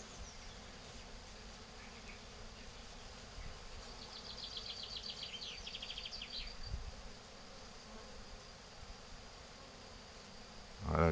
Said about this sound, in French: Alors celui-là est petit, hein, c'est un petit essaim.